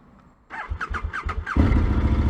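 A KTM motorcycle engine turns over with a few rhythmic starter cranks, then catches and settles into a loud, steady running rumble close by.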